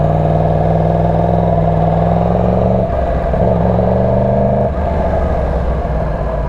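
A 2018 Yamaha R1 sport motorcycle with an aftermarket exhaust pipe idles close by and then revs, its pitch climbing and falling twice in short blips before it settles back down.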